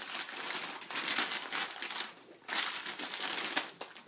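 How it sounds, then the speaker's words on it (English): Packing paper crinkles and crushes in close, loud bursts while shot glasses are rolled up and wrapped, with brief pauses between handfuls. "Wrap it up in one more piece of paper."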